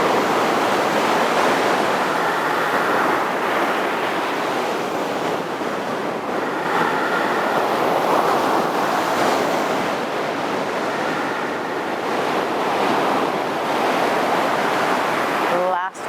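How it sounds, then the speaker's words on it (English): Ocean waves wash in a steady, broad roar with gentle swells and slight wind, sounding close and continuous, and no voice over them. "Just taking in that meditative sound of the ocean."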